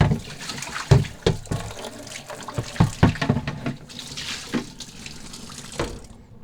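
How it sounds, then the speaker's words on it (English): Water runs and splashes into a bucket being rinsed clean before it holds a descaling pump for an on-demand water heater, with uneven sloshing and several louder splashes close by. "make sure my bucket is rinsed out."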